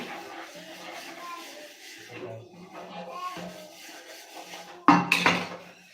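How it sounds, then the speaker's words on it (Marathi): Dishes clatter and scrape while being scrubbed by hand, with a louder clank of metal pots near the end and voices talking in the background. "इकडे मी भांडी घासते"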